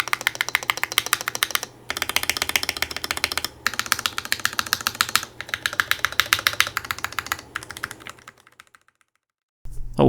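Steady, fast typing on a Portico mechanical keyboard fitted with Gateron Milky Top switches with UHMWPE stems, close and crisp, with a few short pauses before the keystrokes taper off and stop.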